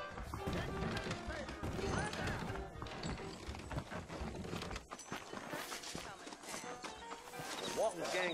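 In the Western video game Red Dead Redemption, saddled horses' hooves clip-clop steadily beneath character dialogue, with a short whinny near the end.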